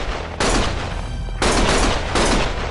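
Sustained bursts of gunfire in the video game Lost Judgment, loud and close, coming in three dense rattling volleys separated by short gaps.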